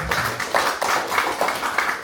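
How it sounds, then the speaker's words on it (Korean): Clapping from a seminar audience at a cultural heritage academic event, with several sharp claps repeating in quick bursts over about two seconds, fairly close and without speech. "박수 부탁드리겠습니다"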